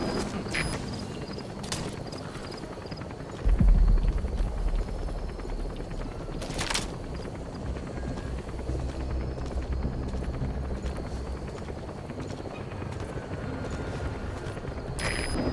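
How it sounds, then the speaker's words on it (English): Helicopter in Metal Gear Solid V arriving at a landing zone: a steady rotor-and-engine drone holds throughout, swelling into a heavier low rumble a few seconds in, with sharp bursts cutting through, and no voices. "Support helicopter has arrived."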